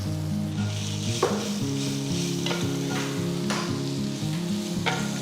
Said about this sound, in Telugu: నెక్స్ట్ నేను ముందుగా తురిమి పెట్టుకున్న మామిడికాయని వేస్తున్నాను